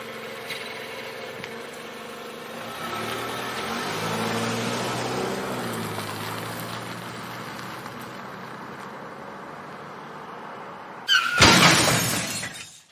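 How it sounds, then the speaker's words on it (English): A car engine builds and revs for several seconds, then a sudden loud crash with shattering glass ends it abruptly. "A car is about to crash into my house."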